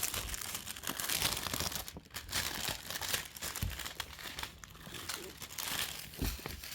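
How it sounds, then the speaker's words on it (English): Plastic wrap being torn and peeled off a Monsia Kleen filtered showerhead box, close crinkling and crackling in irregular bursts with a person talking over it. "it comes in this plastic wrap. So I'm just going to take this off"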